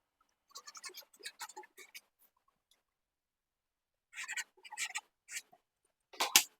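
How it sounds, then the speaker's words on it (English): Pencil drawing lines on a paper sewing pattern for a sleeveless dress, quiet close scratchy strokes in two bursts, several short scrapes, a pause, then more strokes ending in a firmer scratch, with no voice over them. "I'm going to connect first with my pencil."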